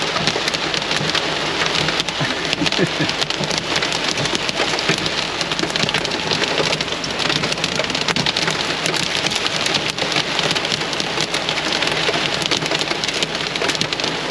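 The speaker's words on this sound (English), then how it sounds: "To make things worse, we've now got hail" Heavy rain with hail during a flash flood in outback Australia near Broken Hill, a dense, loud, continuous roar of pelting drops and hard impacts throughout, with no talk.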